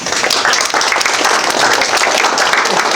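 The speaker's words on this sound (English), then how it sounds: "I think we need a round of applause for that." Members at an amateur radio club meeting give a round of applause, a dense, fairly close burst of many hands clapping that carries on steadily throughout.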